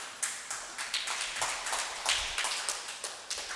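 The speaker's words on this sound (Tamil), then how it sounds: "ஆனால் கைத்தட்டுங்க," An audience claps its hands in a steady, regular rhythm, each beat a sharp, moderately loud crack repeating evenly throughout with no voices over it.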